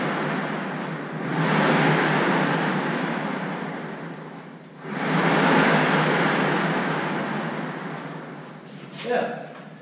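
An electric rock crawler in four-wheel drive and low gear drives forward, making a steady whirring hiss that rises and falls in two long surges, fairly close.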